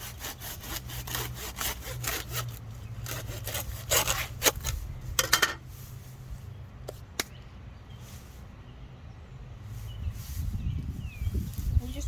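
Hands pry apart a clump of Boston fern roots, making dense scratchy, tearing and rubbing noises close by, strongest at first and then easing into softer rustling.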